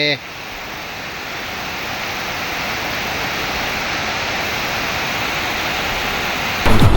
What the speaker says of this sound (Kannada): ನೀರು ಬರೋ ಸೌಂಡ್ ಕೇಳಿಸ್ತಾ ಇದೆಯಾ ತಮಗೆ